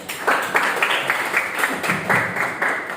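Classroom participants give a round of applause during a lesson, a steady patter of many hands clapping that stays at an even level for several seconds, with no talking over it.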